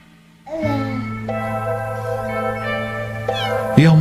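Several six-week-old kittens meow together, close by, with high, wavering cries overlapping in a continuous chorus.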